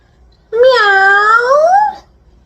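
A single drawn-out meow from a black cat with white paws, close and clear, rising then falling over about one and a half seconds, with quiet before and after.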